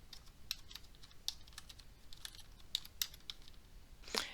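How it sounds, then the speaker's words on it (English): Rapid, irregular clicking of a computer keyboard as a short prompt is typed, close and fairly quiet, with brief pauses between bursts of keystrokes and a slightly louder final tap. "In the prompt field, type in sailboat at sunrise."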